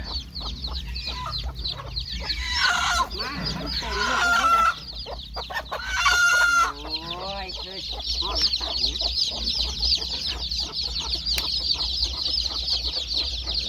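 Mother hen leading her chicks down, clucking repeatedly near the microphone, with a few brief louder squawks and calls from other fowl in a farmyard under steady insect-like background noise.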